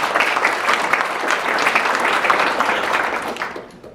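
A live podcast show audience bursts into loud, dense applause, sustained and close for about four seconds before cutting off abruptly.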